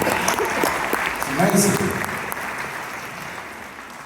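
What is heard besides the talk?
audience applause at awards ceremony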